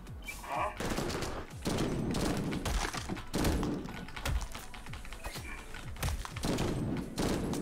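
Rapid, dense gunfire from a gun in a video game, loud and continuous with bursts of repeated shots filling the whole stretch.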